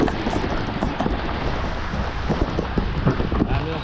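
Steady, heavy rain pours down with a constant dense hiss, close and loud, with gusty noise mixed in, in the Baseco port area of Manila.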